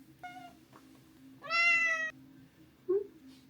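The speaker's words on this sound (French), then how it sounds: "Qui miaule tout le temps." A cat meows up close indoors, a short cry, then a longer, louder drawn-out meow, and a brief chirp near the end, against a low steady hum.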